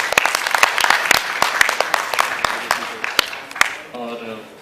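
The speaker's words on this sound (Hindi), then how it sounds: "पहले उन बच्चों में भी तालियां हो जाए एक बार जोर से" Loud clapping from a group of children at an event, dense and sustained with sharp individual claps, tapering off toward the end as a voice begins talking.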